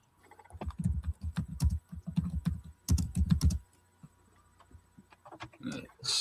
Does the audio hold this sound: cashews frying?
no